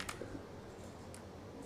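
Light typing on a computer keyboard, a few scattered key clicks and taps, close but quiet against a steady background hum, with no talk.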